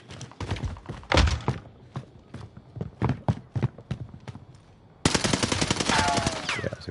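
Gunfire from the Wilkins weapon setup rattles in a video game match at Fortune's Keep, with irregular bursts and single shots, then a loud sustained rapid stream of fire near the end.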